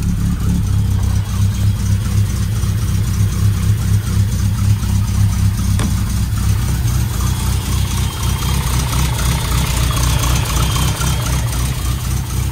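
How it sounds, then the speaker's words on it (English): A Lotus Elan engine runs steadily with a continuous mechanical whine and rattle from a faulty alternator, loud and close, no talking. "There is an odd noise,"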